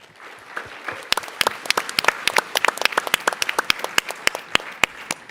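Audience applause after a startup pitch at TechCrunch Disrupt, beginning as scattered claps and building into a fuller round of individual sharp hand claps, moderately close, with no speech over it.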